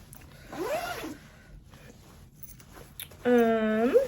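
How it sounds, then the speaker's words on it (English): Zipper on a Hello Kitty x JuJuBe Super Bee bag pulled across, two short rasping zips separated by a quiet pause. "All right, so it does zip across."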